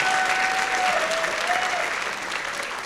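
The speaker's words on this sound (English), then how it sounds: "Let's give Miss Eke a big round of applause" Sustained audience applause at a high school Drive Responsibly 2024 assembly, a dense steady wash of clapping from a large crowd, fairly loud and even throughout.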